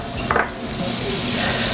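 About a tablespoon of butter melting in a hot pan, with a steady soft sizzle and a brief scrape or clink of a utensil near the start, close and without talk.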